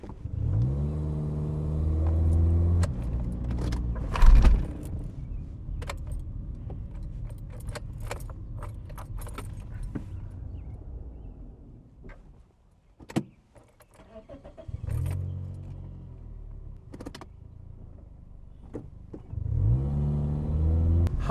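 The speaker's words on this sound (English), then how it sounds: "switch the key back on to see if it'll switch on and immediately kick it into drive" A Toyota Corolla has its key switched back on and is shifted straight into drive: keys jangle, the engine fires and revs with a brief loud clunk, then dies to near silence before catching and running again.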